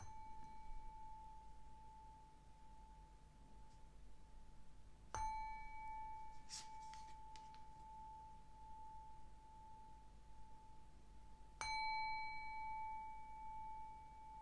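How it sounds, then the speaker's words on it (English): A small ringing bell struck twice, each strike bright and clear with a long sustained shimmer, over a constant steady hum in a quiet room. "I'm going to ring the bell a couple times"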